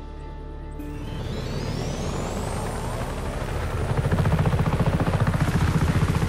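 A helicopter in the video game Just Cause 3 spins up and grows louder, its engine whine rising into a steady, close, pulsing rotor thump that fills the scene.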